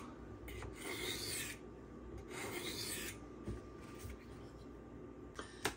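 A Spyderco Manix knife with CPM 15V steel is drawn across a 1000 grit sharpening stone in several separate rasping strokes, each a gritty scraping swish, close and quiet with short pauses between passes.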